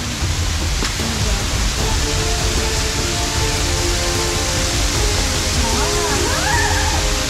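Steady broadband wash of water falling and dripping into a pool beneath a large rock overhang at Colditz Cove, loud and continuous, with faint tonal chirps late on.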